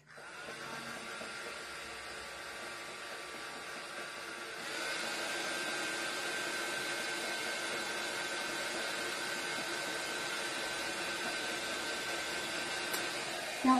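A hair dryer blows steadily on freshly painted wood of a scarecrow door hanger. The airflow hums at low level and grows a little stronger partway through, with no talk.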